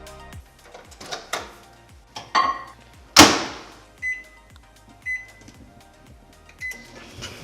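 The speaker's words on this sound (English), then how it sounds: "put it in the microwave for 45 seconds" Clunks and clicks from a microwave oven heating hot chocolate, a door shutting with a loud bang, then a series of short beeps over a low hum.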